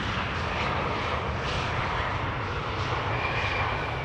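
A JetBlue jet arriving from Boston passes at Amsterdam Schiphol Airport, its engine roar a steady, broad, loud rush that holds evenly throughout with no voices.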